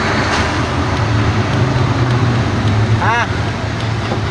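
Steady expressway traffic roar, continuous and close, with vehicles rushing past and a brief high tone near the end; a voice is present.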